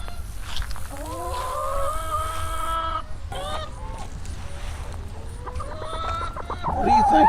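Several chickens cluck and squawk close by, in repeated bursts with a brief lower honk among them and a louder flurry at the end.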